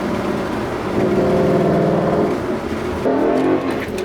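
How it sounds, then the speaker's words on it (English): Manual Ford Mustang GT V8 engine revving through a power shift, a loud close rise in pitch that drops at the gear change and climbs again, with a brief gap before a second surge. "That was a power shift that you did."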